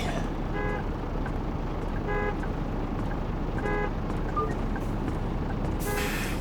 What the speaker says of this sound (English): Who's tooting the horn?